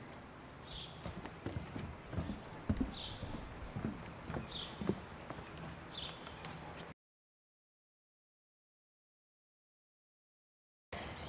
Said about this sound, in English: when you're ready, ask your horse to walk on.